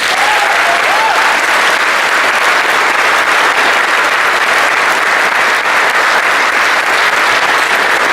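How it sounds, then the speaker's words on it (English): Sustained audience applause at a faculty variety show, dense and steady throughout, loud and close with a faint voice briefly audible early on. "could we please have a resounding round of applause for Jerry Kumpel"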